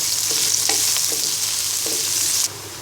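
Chopped onion frying in hot oil in a wok while being browned, a loud constant sizzle with occasional stirring scrapes, cutting down abruptly near the end.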